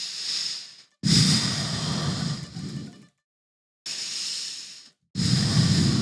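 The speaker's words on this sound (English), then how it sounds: "you need to take big breath" Exaggerated deep breathing, deliberate for playing guitar: two long loud inhale-exhale cycles, each a breathy rushing hiss lasting a couple of seconds, separated by brief silences, close and alone.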